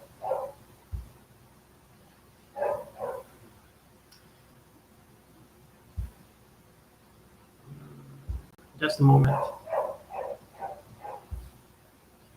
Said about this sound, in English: dogs everywhere barking and stuff like that